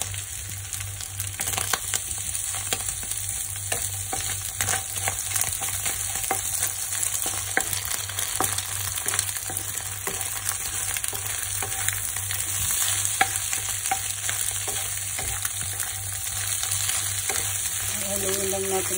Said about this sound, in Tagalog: Haluin lang natin konti para maluto yung nuggets niya guys.